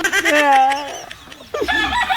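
A chicken clucks and crows close by in a couple of short, loud harmonic calls, with a brief pause between them.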